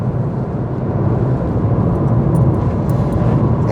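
Small Dacia Spring electric car rolling along smooth Welsh country lanes, heard from inside as a steady, close road and tyre rumble with low hum, constant and without voices.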